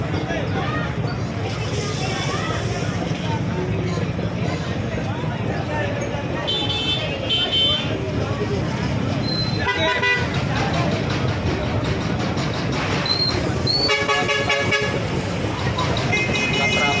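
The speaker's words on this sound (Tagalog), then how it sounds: "Nagka-traffic na doon sa area mga ito sa gitna." Busy traffic crawls at the Malabon fishport amid steady crowd babble and engine rumble, with several car horns tooting in short bursts between voices.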